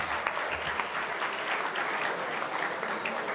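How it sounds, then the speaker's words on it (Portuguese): Steady audience applause at a university logistics lecture event, a dense even wash of clapping that holds at a constant level throughout, with no voices heard. "vocês podem bater palmas para quem está ganhando também"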